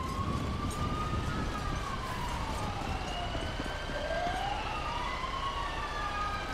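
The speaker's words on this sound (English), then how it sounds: "I can hear the police as well. They're coming over here." Police sirens in GTA 5 wail continuously with rising and falling tones over a rumbling background, steady and fairly loud, without talk.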